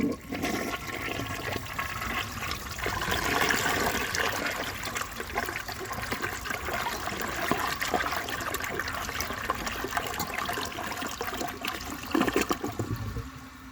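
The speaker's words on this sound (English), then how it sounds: "It flushes very similarly to my Elger Quieta in that it siphons for the greater part of the flush" A 1953 AllianceWare toilet flushes in one long siphoning rush of water, loud and close, with gurgling and trickling throughout and a short surge near the end.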